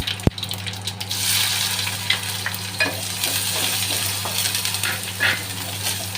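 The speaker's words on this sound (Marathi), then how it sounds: "कढीपत्ता घातल्यावर मी कांदा घालते" Onion hits hot oil after curry leaves in a Konkani-style val bhaji, opening with a sharp clatter and then settling into a close, steady sizzle with scattered stirring scrapes and spatula knocks.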